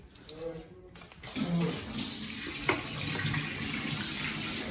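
Tap water runs steadily into a sink during handwashing, a continuous close splashing hiss after a brief quiet start, with some background voice.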